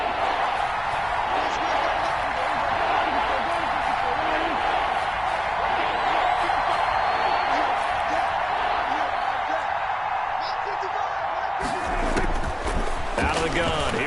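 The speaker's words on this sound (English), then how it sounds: "the crowd getting into it as we come up on a big 3rd down" Stadium crowd roaring steadily in a football video game as a big third down approaches, a continuous dense cheer throughout that swells and grows busier near the end.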